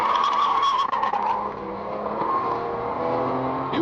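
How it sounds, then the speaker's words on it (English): Car tyres screech on a highway, a loud sustained squeal heard on dashcam footage that wavers and rises over the rumble of traffic and engine noise, with no speech. "We can then hear the screeching of tyres"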